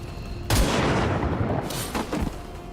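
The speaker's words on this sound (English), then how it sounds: "I have a grenade. Frag out." Frag grenade explosion in the video game XCOM 2, a sudden loud broadband blast that rolls and crackles for about a second, followed by a couple of lighter debris pops fading out.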